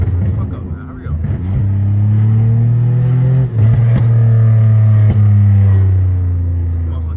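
A tuned, catless Pontiac Grand Prix GT engine drones loudly and close, its pitch rising as it revs and holds high, with someone talking over the engine noise.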